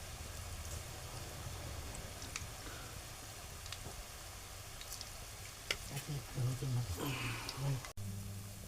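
Taro leaf bhaji fry in oil with a faint, even hiss. A few louder muffled bumps and clatter come near the end.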